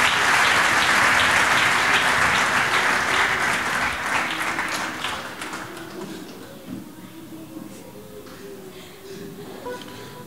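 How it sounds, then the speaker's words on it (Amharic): A church congregation breaks into loud, dense applause that holds strong for several seconds, then thins and fades as the clapping dies down, leaving faint room noise and scattered claps. "አጨብጭቡለት እስቲ"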